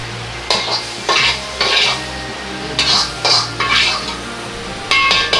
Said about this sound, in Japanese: 今回は簡単にできるナポリタン風炒めの作り方を紹介しました。